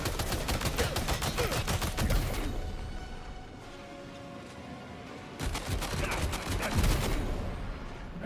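Gunfire in the video game Death Stranding 2 during a sniping fight against distant enemies, with rapid bursts of sharp shots, a short lull, then another cluster of shots.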